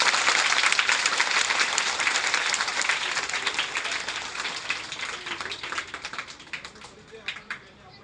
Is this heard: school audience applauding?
yes